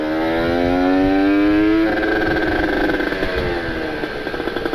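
Restored Kawasaki Ninja two-stroke motorcycle engine revving up through rising tones, then settling into a buzzy crackling idle that pops and sputters toward the end, loud and close, no talk.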